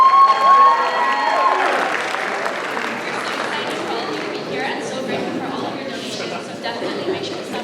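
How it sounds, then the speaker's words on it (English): Audience applause with some cheering at a student India Day celebration, starting loud and tapering to a lighter, mixed crowd murmur of claps and voices. "So let's give her a round of applause."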